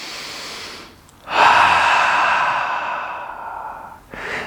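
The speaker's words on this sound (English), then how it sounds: "Be aware and breathe." A single deep breath as part of a stress-relief exercise: a long, loud airy inhale-exhale lasting about three seconds after a brief pause, with another breath starting at the end, close to the microphone with no speech.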